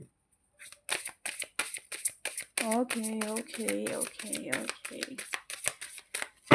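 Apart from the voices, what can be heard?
shuffling tarot cards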